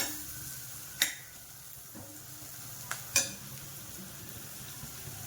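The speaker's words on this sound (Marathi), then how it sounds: "थोडंसं तेल घालूया आता जरा, परतून घ्यायचं हे चांगलं." Samosa filling is sautéed in oil in a pan: a soft, steady sizzle underneath, broken by a few sharp clicks and scrapes of a spatula against the pan, with no speech.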